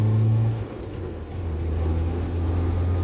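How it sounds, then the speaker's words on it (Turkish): A Lada Samara pulling away in gear, its engine note a steady low hum that dips briefly then rises again as the car gathers speed, heard from inside or close by without talk. "araç gerçekten çok seri bir şekilde kalkıyor"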